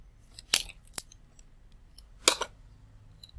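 A few sharp metallic snips and clicks of scissors, close up, in short separate bursts with quiet pauses between and no talking.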